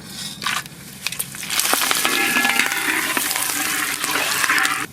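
Cardamom, cloves, cinnamon and bay leaves hit hot mustard oil with a sudden loud, steady sizzle that carries on close by, after a few brief clatters at the start.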